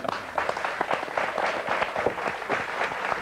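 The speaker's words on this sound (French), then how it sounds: "Voilà, Marc Hardy qu'on peut applaudir" An audience applauding Marc Hardy, a dense, steady patter of many hands clapping at moderate loudness throughout, with no voices over it.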